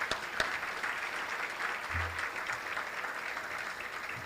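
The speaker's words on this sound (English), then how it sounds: "please give them a round of applause." Applause from an audience at an awards dinner, steady broadband clapping filling the room for several seconds at a moderate level.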